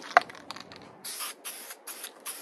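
Primer sprays from a can in a spray booth as a series of short hissing bursts, each lasting a fraction of a second, close and fairly loud with brief pauses between them.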